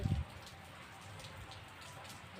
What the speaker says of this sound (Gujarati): આમ જોઈ લો હજી વરસાદ પણ ચાલુ જ છે